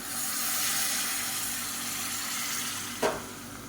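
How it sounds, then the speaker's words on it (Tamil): Chicken varuval frying in a pan gives a steady broad sizzle, with one short splashing burst near the end as hot water is poured in. "நல்லா எல்லாத்தையும் கிளறி விட்டுட்டு முங்குற அளவுக்கு தண்ணி ஊற்றிக்கலாம்"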